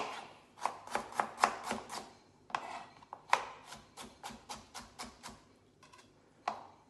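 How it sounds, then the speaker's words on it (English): A knife chops rapidly on a cutting board in quick bursts of sharp taps, pausing briefly between runs, close and clear with no talking. "So best is chop it up small."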